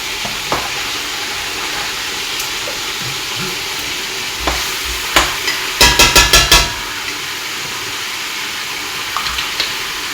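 Tomatoes fry in a hot pan with a loud, steady sizzle, while a utensil stirs and knocks against the pan in scattered clacks and one quick rattling run.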